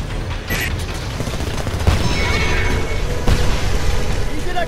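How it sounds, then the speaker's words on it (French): A grenade blast in Homefront, one of two heavy thuds with crackling debris over a steady roar of battle and gunfire, heard amid continuous action noise. "Lancez une grenade derrière ce truc."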